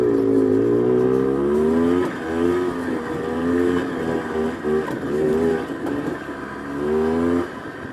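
An early first-model Polaris ATV engine, previously starved for gas, revs loudly and continuously up close, its pitch rising and falling through several throttle swells before easing off near the end.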